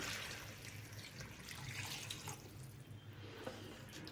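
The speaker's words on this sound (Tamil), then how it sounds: "இப்போது சிக்கனுக்கு தேவையான அளவுக்கு தண்ணி வந்து நம்ம ஊற்றிக்கலாம்" A steady stream of water pours into a pot of chicken gravy, a continuous hissing splash up close with no talking.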